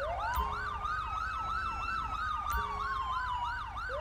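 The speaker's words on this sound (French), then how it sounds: "je vais couper ma sirène juste avant" A police car siren in GTA 5 with the LSPDFR mod wails in fast, rising and falling yelp cycles, loud and continuous with no talk.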